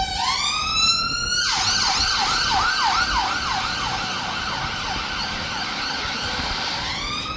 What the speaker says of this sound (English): Sorry, just waiting for the ambulance to go by.